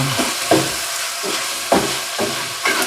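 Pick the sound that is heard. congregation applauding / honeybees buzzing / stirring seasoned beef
stirring seasoned beef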